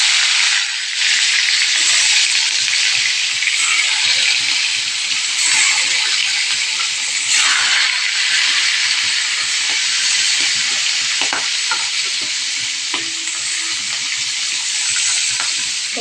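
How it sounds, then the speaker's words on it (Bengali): Fish frying in hot oil in a home kitchen for a fish curry: a loud, steady sizzle and hiss fills the whole stretch with faint crackles and small pops, close and without talk. "তো গরম তেলে এখন আমি মাছগুলোকে দেখো ছেড়ে দেব।"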